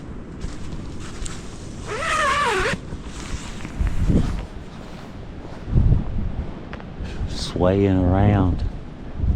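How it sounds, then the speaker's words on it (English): Steady gusting wind roars and buffets the microphone throughout at a campsite on the Tug Fork River, with someone speaking briefly over it. "You can hear all the wind."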